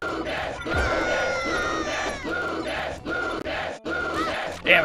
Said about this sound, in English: Damn, the crowd's going wild.